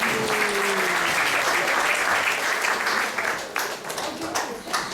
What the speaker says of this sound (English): Let's give a round of applause for Gita Mataji for the class.